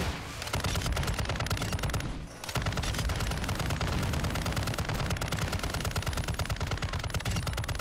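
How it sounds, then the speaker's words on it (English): A loud light machine gun blazes away in a shooter game, a rapid unbroken stream of shots with one brief pause before the burst resumes and runs on. "isn't this the loud-ass LMG?"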